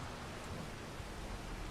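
Steady rain in Farming Simulator 25 on a Hutan Pantai farm map: a dense, even hiss of falling rain runs the whole time with no break and no voices over it.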